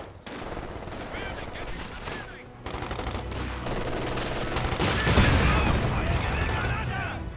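Sustained machine-gun covering fire and gunshot bursts in the Company of Heroes 2 real-time strategy game, dense and loud throughout, with battle effects and shouted voice lines mixed in.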